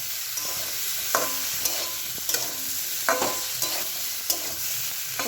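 Ginger paste, chili powder and turmeric are stirred in a frying pan with a spatula, making regular scraping strokes roughly every second over a constant soft sizzle. It is close and fairly quiet, with no voices.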